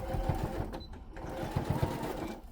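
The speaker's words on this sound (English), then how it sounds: "I'm just going to do another stitch right there." Sewing machine stitching a boxy bag, running in short bursts of rapid mechanical chatter with brief pauses between stitches, close and steady.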